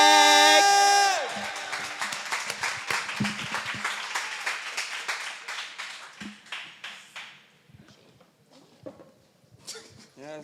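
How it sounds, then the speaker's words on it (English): Open mic audience at Jirani Coffeehouse applauding a performer named Beck: a full room of clapping fills the space after a brief sung or spoken tone, then thins into scattered claps near the end. "please give the final round of applause to Beck"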